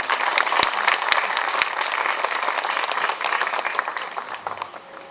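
A crowd at an interfaith contemporary art exhibition ceremony in Macau breaks into loud, sustained applause, a thick, continuous clatter of many hands with a few sharp individual claps standing out near the start. No one talks.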